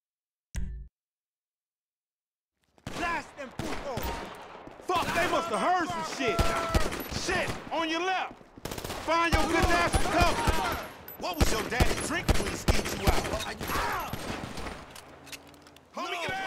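Rapid bursts of gunfire in the video game GTA 5, loud and sustained across most of the stretch, mixed with in-game music and voices talking over the shooting.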